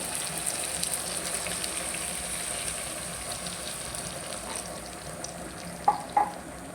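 Water is poured into a pan of frying tengra fish and eggplant curry, making a steady hiss and bubbling sizzle throughout, ending with two sharp clinks, with no voices.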